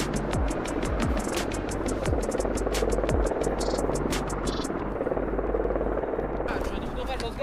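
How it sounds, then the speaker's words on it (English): An Italian military helicopter approaches over a snowy Norwegian clearing, its rotor chop and turbine whine loud and steady throughout, with faint radio voices underneath. "Helicopters are coming."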